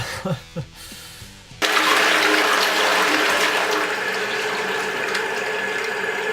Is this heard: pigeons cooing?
no